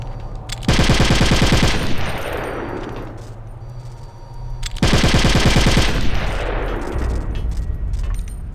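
Two bursts of rapid automatic gunfire in Metal Gear Solid: The Twin Snakes, each loud sustained volley followed by a ringing metallic decay, with no talk.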